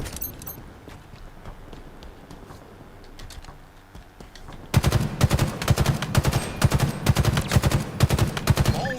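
Rapid gunfire rattles in a video game, starting suddenly halfway through as loud, close bursts of rhythmic shots, following a quieter stretch of faint background game sounds.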